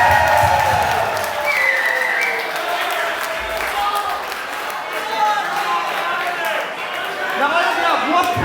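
A crowd at a professional wrestling show in Halifax, Nova Scotia, applauds and cheers loudly throughout, with steady clapping and shouting under a few raised voices.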